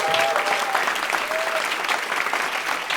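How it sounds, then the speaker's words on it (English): An audience applauds at a live show, dense steady clapping throughout with a few whistles cutting through near the start. "the surprise guest will be announced after you give them big applause"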